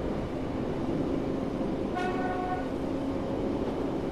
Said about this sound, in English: Love the horn.